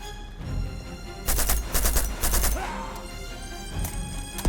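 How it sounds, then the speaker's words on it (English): Blind-fire gunshots in the video game Uncharted 2: a cluster of sharp, loud bursts in quick succession midway, with one more crack near the end, over a steady game soundscape. "get you some blind fire kills right here"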